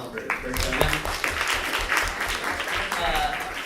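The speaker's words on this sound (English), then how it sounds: "Give yourselves a round of applause for showing up." Audience applause at a University of Alberta debate series event on immigration, clapping mixed with crowd noise and overlapping voices across the short stretch.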